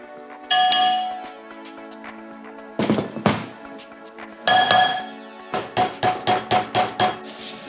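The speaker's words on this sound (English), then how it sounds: "To minimize the noise of the anvil, you can put it on something soft like fabric or cushion so the sound doesn't propagate too much" Hammer striking metal rivets on a small thrifted anvil for a DIY harness, giving ringing metallic clinks: a few spaced single blows, then a quick rhythmic run of about eight strikes, close and loud with no talking.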